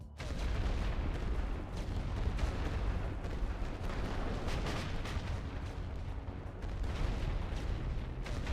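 A heavy, continuous artillery barrage in a war video game, dense rumbling blasts and booms rolling on without pause at steady loudness, no voices over it.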